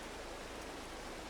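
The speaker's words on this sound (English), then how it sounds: "let's wait for the rain to stop" Steady rain falls in Farming Simulator 22, an even, hissing wash of droplets with no breaks, quiet and continuous with no voices.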